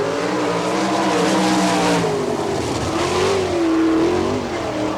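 Sprint car at the All Star Circuit of Champions in Findlay, Ohio, blasting around a qualifying lap, its engine howling and rising and falling in pitch through the corners, loud and continuous with no talk.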